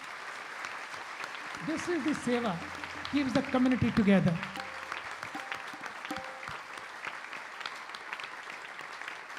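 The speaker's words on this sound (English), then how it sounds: "Let us give a big round of applause for all of these people" Audience applause for a community volunteer team at a live spiritual talk in London, a steady broadband patter of clapping rising to a peak midway and then thinning, with someone speaking over it throughout.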